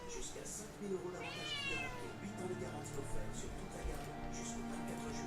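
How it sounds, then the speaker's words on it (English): A house cat meows a few times, rising and falling, over steady background music and the hum of a room, fairly close to the microphone. "Tara, my cat's here."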